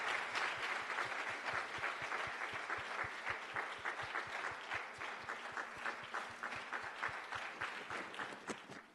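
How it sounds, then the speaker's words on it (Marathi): An audience at a church Sunday service applauds an award for a school sports meet, a dense sustained round of clapping that runs steadily throughout and fades slightly at the end. "टाळ्या वाजूया."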